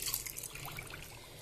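A bowl of water is poured into semolina appam batter made with curd and sugar, a faint, brief trickle and splash of liquid close by.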